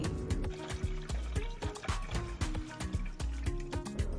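Lemon juice poured over chicken machboos, a quick run of wet drips and small splashes trickling in close up over a few seconds, with light clinks in the background.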